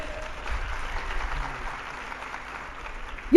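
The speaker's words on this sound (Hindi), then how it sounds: "तालियां बड़ी कमजोर है।" An audience at a spiritual discourse applauds, a soft, thin patter of clapping heard at moderate distance, ending with a sudden louder sound at the very end.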